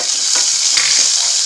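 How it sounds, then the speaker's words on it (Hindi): Cumin, ginger and green chillies sizzle loudly in hot oil in a pan, a close, steady hissing crackle with a faint stir or clink partway through, and no voices. "ऑयल गर्म हो गया है। अब इसमें हम डाल देंगे जीरा और अदरक और हरी मिर्च।"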